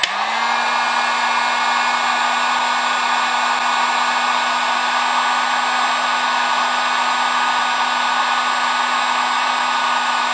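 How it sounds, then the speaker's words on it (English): A cheap Harbor Freight heat gun runs continuously while shrinking tubing on a 1964 Vespa project, giving a loud, steady fan-and-motor whine with a constant tone from start to finish and no speech. "we're going to grab the heat gun and we're going to shrink it down"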